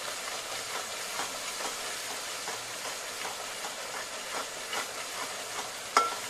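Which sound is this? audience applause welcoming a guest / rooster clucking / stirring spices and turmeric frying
stirring spices and turmeric frying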